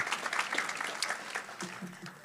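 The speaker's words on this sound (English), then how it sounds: "Please give them a big clap." Audience applause breaks out during a church gathering, scattered clapping from a room of people with individual claps standing out, while voices talk over it and the clapping fades toward the end.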